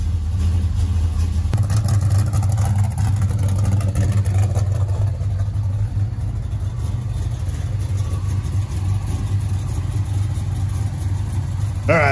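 A big block engine idles after a cold start following a month unused, a loud, steady, choppy rumble running close by throughout.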